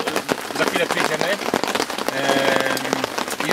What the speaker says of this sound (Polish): w nietypowej scenerii pada deszcz